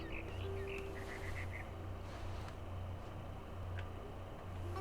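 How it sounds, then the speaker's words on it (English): Chirping birdsong from a barn swallow in the video game What Remains of Edith Finch, short high twittering bursts heard over a steady low ambient hum, moderately faint. "Then I heard chirping outside my window. It was a barn swallow going back to her nest."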